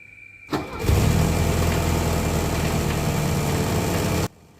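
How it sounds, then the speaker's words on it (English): A Mercedes-Benz W123 230E cranks briefly, then catches and settles into a steady, loud idle with an odd sound running through it, close up with no talking until the engine cuts off abruptly. "Immediately after starting the car up, we could hear a funny sound, which we couldn't understand where it was coming from"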